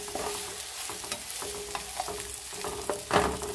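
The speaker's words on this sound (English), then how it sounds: "I put the onions were getting brown, so I put the apples in now. I'm going to cook them till they're soft." Browned onions and apples fry in a pan, and a spoon stirs and scrapes through them in repeated strokes over a steady sizzle, ending in a louder clunk near the close.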